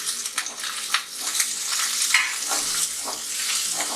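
Cabbage, carrot and green onion stir-fried for hakka noodles, a bright hissing sizzle with the scrape and toss of a spatula through the pan in uneven strokes, close and steady.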